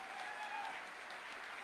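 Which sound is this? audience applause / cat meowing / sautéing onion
audience applause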